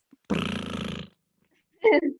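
A voice imitates a drum roll with a sustained rolling, growling buzz lasting under a second, followed after a pause by a brief excited vocal burst.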